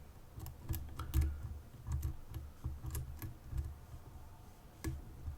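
Small, sparse metallic clicks and ticks come from a lock pick working the pins of a ZI Ikon SK6 lock. They are close and quiet, with irregular taps and a few sharper clicks and no voice.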